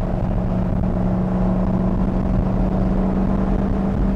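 A 1964 Corvette Stingray's freshly rebuilt 327 V8 idles steadily up close, giving a constant low rumble with an even hum and no revving.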